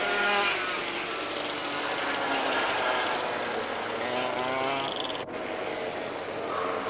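Dirt go-kart engines race at an outdoor track, a steady loud drone of revving small motors with rising and falling pitch, continuous throughout with no talk.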